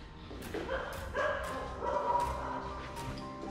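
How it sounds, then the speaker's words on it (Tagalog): Several dogs bark and yip at a distance, sharp overlapping barks with some whimpering, fairly steady over a few seconds. "Mga tumatahol-tahol pa."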